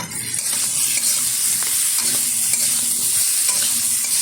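Elephant foot yam stalks and potatoes are stirred in hot oil, giving a steady, loud sizzle with the spoon scraping the pan now and then throughout. No one speaks.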